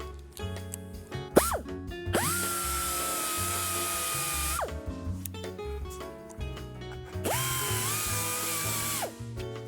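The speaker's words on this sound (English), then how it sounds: "Actually, I can use my wire wheel." Wire wheel grinding down body filler on a dented car panel, a loud high whining spin that rises in two long sustained passes with short gaps between, alone without talk.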